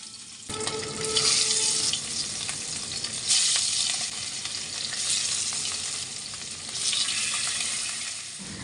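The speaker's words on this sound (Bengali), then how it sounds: "এখন আমি আলু এবং মাছগুলোকে খুব সুন্দর করে ফ্রাই করে নিব" Fish pieces and potatoes frying in hot oil produce a continuous crackling sizzle that swells and eases in waves, fairly close and without any talking.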